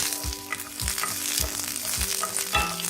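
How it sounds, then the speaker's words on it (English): Garlic frying in hot olive oil in an iron skillet, a bright steady sizzle punctuated by regular low thumps of stirring, about five strokes, close up. "Now in an iron skillet, we have heated around 3 to 4 tablespoons of olive oil. Now add the garlic and roast it."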